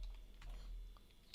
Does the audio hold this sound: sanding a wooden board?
no